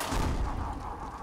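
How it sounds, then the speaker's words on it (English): Shotgun firing in the Ghostbusters video game, a dense, booming blast with a rumbling low-end tail that fills the whole short moment at fairly low level. "Oh, shotgun."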